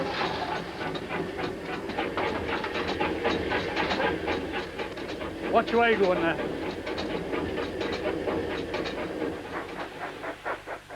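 Steam locomotive working hard in full gear, a continuous rumbling chuff and rail clatter with a brief whistle-like rising tone midway, heard up close under a man's spoken remark.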